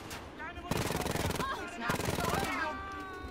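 Rapid bursts of gunfire in the shooter Wolfenstein Youngblood, two dense volleys of fast repeated shots layered over game music and effects, with a voice talking over the action.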